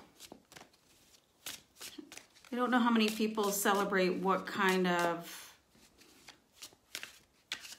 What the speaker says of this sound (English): just going to do a little bit of shuffling here.